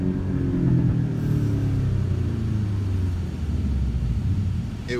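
Porsche 718 Cayman GTS four-cylinder engine with PDK gearbox accelerating, a loud close rising drone with a gear change early on, heard alone.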